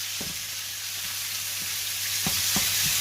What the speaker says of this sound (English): I've got some hot oil in there. And what I want to do, essentially, is I want to cook this